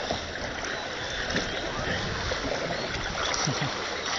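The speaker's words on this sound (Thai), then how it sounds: "น้องคนนี้ใช้เรือพายมา" A rowboat is paddled through flood water on a city street, with a continuous faint wash of water and splashing, plus a murmur of voices in the background.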